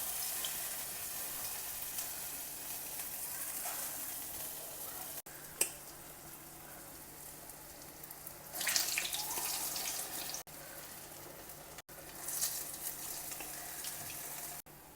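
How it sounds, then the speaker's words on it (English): Batter dropped into very hot oil fries with a constant loud sizzle and hiss, close, with brief bursts of stronger crackling. "Remember, the oil should be very hot when you drop in the batter."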